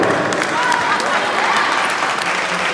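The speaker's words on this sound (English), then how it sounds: "Y'all give a round of applause for that." Audience applause and cheering at a high school talent show, a steady, dense crowd roar with clapping that holds at an even level throughout, with faint voices mixed in.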